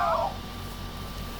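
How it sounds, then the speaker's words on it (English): A cat meows once in Dragon Ball Z Kakarot, a short, clear mew at the very start, followed by quiet game ambience. "mind that cat's voice"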